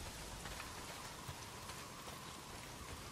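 Steady, dense rain falls in the video game Days Gone, an even hiss of drops on surfaces that holds at constant loudness throughout with no voices.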